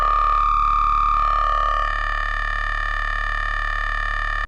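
A sustained deathstep synthesizer tone with heavy resonance and oscillator B sync, a loud buzzing drone rich in bright harmonics whose timbre shifts early on before settling into a steady held note, then cutting off abruptly.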